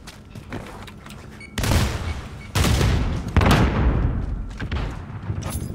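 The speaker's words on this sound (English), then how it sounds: "That was a very intense explosion." Loud explosions and heavy gunfire in Call of Duty: Modern Warfare, with several sharp broadband blasts that each rumble and trail off, layered over steady battle noise.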